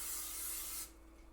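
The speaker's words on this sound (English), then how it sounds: "We're going to be spraying the bottom with Pam." Pam cooking spray hisses in one steady burst onto the bottom of a baking pan, close and fairly loud, cutting off abruptly after about a second.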